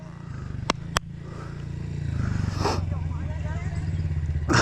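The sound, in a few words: dirt bike engine revving as rider cracks throttle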